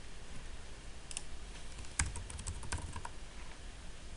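Fingers tap on a Surface Pro keyboard, a run of quiet, close key clicks with one sharper strike partway through, no voices.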